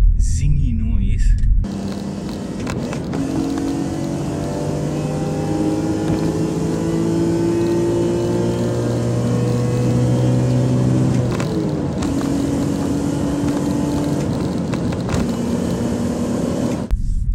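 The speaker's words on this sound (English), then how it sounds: "this particular car is decatted, so it makes a higher zingy noise" A decatted BMW M3 E46 rasps with a high-pitched, zingy exhaust note as it accelerates through the gears, rising in pitch with shifts between pulls, loud and close on an in-car drive.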